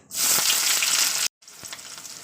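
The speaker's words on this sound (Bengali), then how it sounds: "যে পেঁয়াজটা কষে গেছে পেঁয়াজটা দিয়ে দিচ্ছি" Browned onion goes into hot oil alongside a fish head, setting off a loud close burst of frying sizzle that cuts off abruptly, then resumes as a softer steady sizzle.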